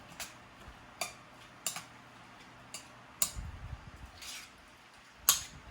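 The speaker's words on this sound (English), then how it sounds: "And then you just mix that up together." A utensil mixes sauce ingredients in a bowl for Japanese-style chicken tonkatsu, making quiet, irregular clinks and ticks against the bowl spread over several seconds, with no talking.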